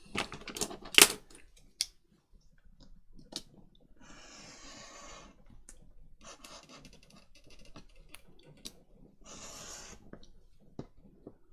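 Scissors snip through paper while a piece for an altered file folder is cut out, with soft scratchy cutting passes and a few light taps in a quiet room.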